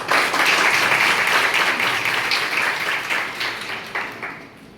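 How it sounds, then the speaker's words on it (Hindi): A hall of nursing officers in Varanasi breaks into loud, dense applause welcoming a guest speaker, a sustained wash of clapping that slowly thins and fades toward the end. "सर के जोरदार तालियों के साथ सर का मैं स्वागत करता हूँ"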